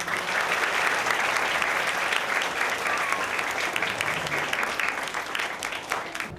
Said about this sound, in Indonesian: Tepuk tangan dulu untuk kakak-kakak dulu.